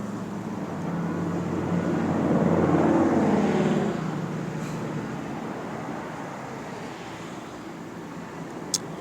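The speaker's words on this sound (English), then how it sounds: "Another plane" An airplane passes over near Ontario International Airport at night, a broad rumbling roar that swells to a peak and slowly recedes over several seconds, with no voices.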